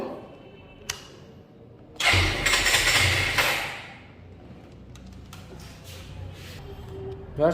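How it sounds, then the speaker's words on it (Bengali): A Suzuki Gixxer double-disc motorcycle, a used bike, cranks and fires with a sudden loud burst, then settles into a steadier, quieter idle at close range. "এখন বাইকটা আমরা স্টার্ট দিয়ে আপনাদেরকে দেখাবো।"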